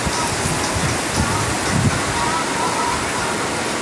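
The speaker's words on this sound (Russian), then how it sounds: "Река." A river at a snowy resort town in winter, its steady broadband rush of flowing water filling the scene at an even level throughout, with faint low murmurs that could be distant voices.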